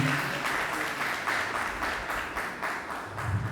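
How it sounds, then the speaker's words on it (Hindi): Loud audience applause at a birthday and Raksha Bandhan celebration in a meditation centre, continuous rhythmic group clapping with pulsing beats throughout. "जोरदार ताली से करेंगे"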